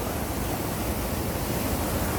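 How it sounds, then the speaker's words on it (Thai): Steady, dense rushing of heavy rain and flowing water, a continuous broadband roar with no pauses. "น้ำกำลังมาพี่น้องฝนตก"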